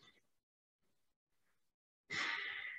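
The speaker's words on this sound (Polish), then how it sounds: "Pięć oddechów." A deep breath drawn into the ribs during a breathing exercise, heard as a single strong, close breathy rush near the end after a stretch of near silence with faint small sounds.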